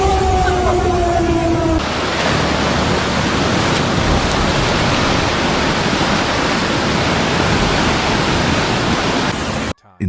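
Floodwater rushing in a churning river after a mega dam collapse in China, a loud, dense, unbroken roar close by that cuts out abruptly at the very end; a faint tone is heard briefly at the start.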